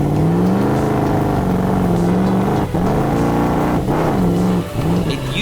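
A supercharged Monster Jam monster truck engine of about 1,500 horsepower roars loud and close, holding a steady growling drone with a few brief dips and rises in pitch.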